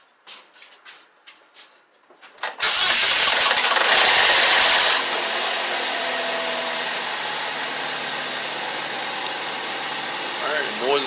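A neglected Chevy Malibu engine cranks briefly after some clicks and faint sounds, catches, and settles into a loud, steady idle that carries on evenly to the end.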